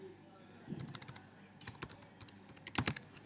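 Text is typed on a computer keyboard in quick, close clicks, scattered at first and then a denser flurry of keystrokes near the end.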